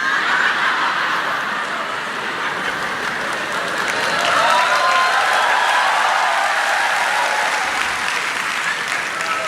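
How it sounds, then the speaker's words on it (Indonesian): A church congregation claps steadily for several seconds, with some light laughter mixed into the sustained applause. "Tepuk tangan buat apa itu?"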